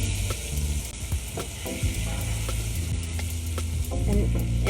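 Jarred minced garlic sizzling in melting butter in a pan, a dense, steady crackle and hiss close up with small pops throughout and no talking.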